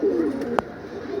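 Pigeons kept as breeding pairs coo softly and steadily near the listener, with one brief sharp knock or click partway through.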